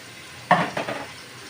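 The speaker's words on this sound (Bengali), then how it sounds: "এখন আমি আলু কেটে রেখেছিলাম আলুগুলো দিয়ে দিচ্ছি" Raw potato pieces tipped into a hot frying pan with rohu fish and tomato, a sudden sizzling burst with a short clatter, then the frying settles and fades.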